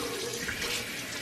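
Water runs steadily from a tap as face wipes are rinsed under the stream, a close, even hiss and splash that lasts the whole short moment.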